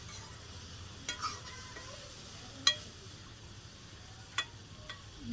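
Potatoes and vegetable stems stirred in a pan as they cook, a low steady sizzle with a few distinct scraping knocks of the spatula at intervals, no voices.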